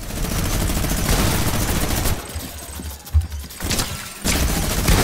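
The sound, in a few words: sniper rifle gunfire in the video game Fortnite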